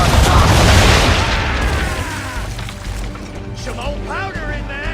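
Ship cannon fire setting off old powder in Assassin's Creed III, a massive rumbling boom at the start decaying over a couple of seconds, then game voices speak over the fading rumble.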